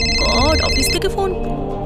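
A phone rings with an incoming call from the office, its bright melodic ringtone loud and close, looping through a short tune, with voices also present.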